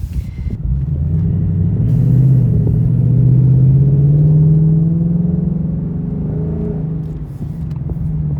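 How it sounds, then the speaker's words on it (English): A Mustang Mach 1 exhaust with an H-pipe rumbles loudly and deeply, rising briefly as the engine revs, then settling back to a steady burble; no voices. "this is how the car sounds with the H-pipe on. A lot louder."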